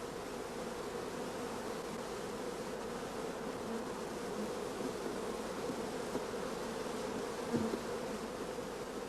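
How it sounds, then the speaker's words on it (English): Honey bees buzz steadily over brood frames with large patches of open brood while young bees nurse larvae, a dense, continuous hive hum close by with no talk. "Here, many young bees are occupied in nursing the young larvae."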